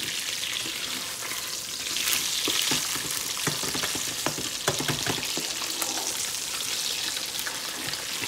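A lingcod fillet fries in a pan with a steady broadband sizzle, sprinkled with sharp pops and crackles of spattering oil, close and moderately loud with no voices.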